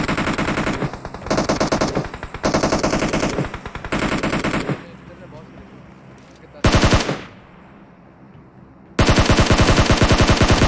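Machine guns fire in a shooting video game, with loud, rapid automatic bursts separated by short gaps. One quieter stretch of distant crackle is followed by a final sustained burst.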